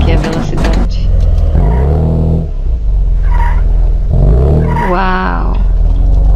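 A car accelerating in the Second Life virtual world, its engine rising in pitch with rumbling revs and tonal sweeps, loud and close, with a voice heard around it.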